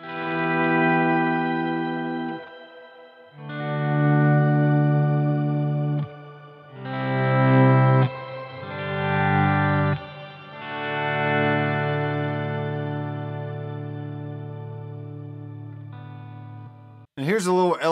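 Electric guitar played through an octave effect and an auto volume echo pedal, sustained chords swelling in and out with layered octave tones and trailing echoes, loud and close, ending in a brief warbling burst.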